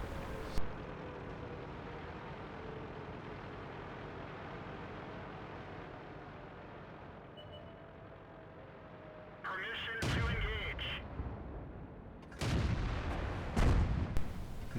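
Tank cannon shots in a tank video game, fired from a Pz38nA on the Erlenberg map, come as loud broad bursts near the end, two or three heavy blasts standing out over a steady engine and battlefield rumble.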